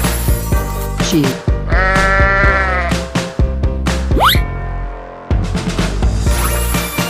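Sheep bleating in a 3D animal slide game, a long wavering bleat over steady game music, with short cartoon effects before and after.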